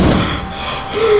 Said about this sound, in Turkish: Kapı kapandı.